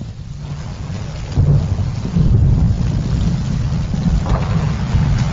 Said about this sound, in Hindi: कॉन्स्टेंटीन, बारिश हो रही है